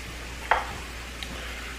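Onions fry in a cast iron skillet with a faint, steady sizzle, broken by a single sharp clink near the start and a softer tap later.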